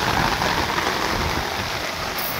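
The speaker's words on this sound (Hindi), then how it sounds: "देखो दिखा दे इधर कितनी ज्यादा बारिश हो रही है।" Heavy rain pours down on a flooded street in Lucknow, a dense, continuous hiss of drops hitting water and surfaces, close and loud, with no talk.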